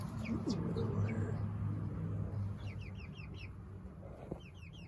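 Several backyard chickens cluck and chirp softly as they are released into a new wire chicken run, small scattered calls over a steady low outdoor hum.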